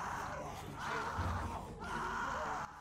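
A woman screams in The Walking Dead Season 1 video game, Episode 3, a sustained strained cry that rises and falls in two long bursts, loud and close.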